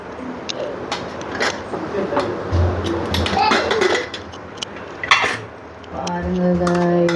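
A pot of cooked mutton keema being opened in a home kitchen, with clattering metal lid and utensil clinks and scrapes over several seconds while people talk nearby.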